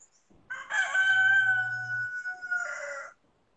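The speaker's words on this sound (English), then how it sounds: "I can hear somebody's birds." A rooster crows once, a long drawn-out call heard clearly at moderate distance against a quiet background.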